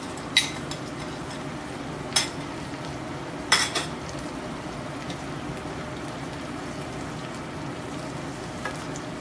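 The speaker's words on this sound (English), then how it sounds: "Let's add the bacon." Bacon sizzles in a pan for pasta carbonara, a steady soft frying hiss with a few sharp clinks of a utensil against the pan.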